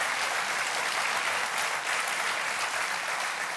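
A studio audience on a German television cooking show applauds: steady, dense clapping from many hands fills the room at even loudness throughout, with no one speaking.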